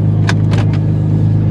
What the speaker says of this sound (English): 1100 horsepower. This is the highest power car that I have ever been on.